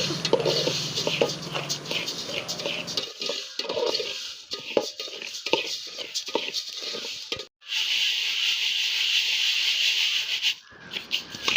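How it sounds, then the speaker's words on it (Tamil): Dried pearl millet scraped and stirred as it dry-roasts in a pan, giving a steady gritty rubbing with rhythmic scrapes throughout and a brief break midway. "இது காய வச்ச கம்பு, இதை தான் நம்ம வறுக்க போகிறோம்"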